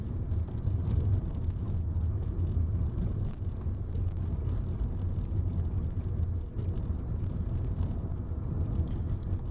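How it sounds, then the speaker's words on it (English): Constant loud low rumble of road and cabin noise inside a moving electric car, steady throughout with no voices. "Car's kind of loud today."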